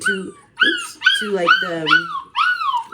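Several puppies whimper and cry in the backyard, outside a kitchen window. Their high yips and whines are close and loud, rising and falling in an uneven string of overlapping cries.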